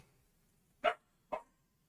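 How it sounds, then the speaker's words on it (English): Two sharp dog barks, spaced about half a second apart, ring out fairly close over a quiet background. "But he is barking."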